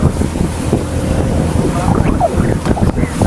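A strong north wind buffets a fishing boat out on the Pacific, a loud, steady roar of gusting air and microphone wind noise with sea wash underneath.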